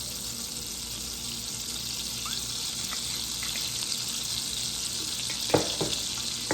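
Butter and a little olive oil sizzle in a hot pan, a steady hissing fry with a few sharper crackles and clinks near the end, fairly loud and without voices.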